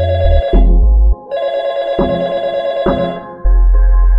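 A telephone rings in loud, bright repeated bursts, with a low steady hum underneath that cuts in and out.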